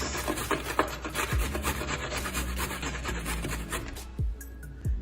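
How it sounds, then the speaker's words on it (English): A carrot rasped against the small side of a hand grater, a close, steady run of scraping strokes with no talk. "Come on the smaller grater side and just grate your carrot. Run it down the graters."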